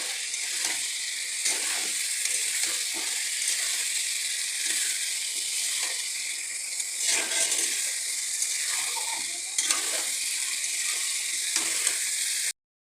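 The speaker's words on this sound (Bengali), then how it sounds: "নুন দিয়ে আমি আলু আর পেঁপেগুলো খুব ভালো করে আরও দু থেকে তিন মিনিট ভেজে নেব" Potatoes and papaya fry with salt in a pan, giving a constant close sizzle with occasional stirring scrapes and no talking.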